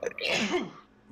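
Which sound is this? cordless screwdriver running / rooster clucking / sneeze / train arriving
sneeze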